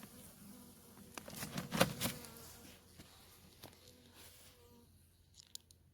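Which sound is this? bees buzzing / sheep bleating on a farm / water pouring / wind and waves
bees buzzing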